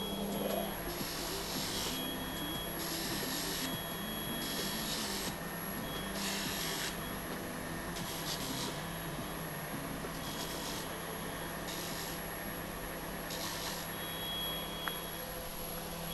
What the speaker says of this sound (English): let me just deburr the other piece of stock